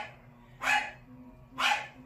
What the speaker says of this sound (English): you hear my other dog now in the cage having a fit because he can't get out